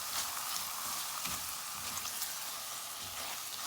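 Tomato paste fries in a pan as coconut milk salmon is being cooked, giving a steady, close, even sizzle with soft crackle throughout and no voices.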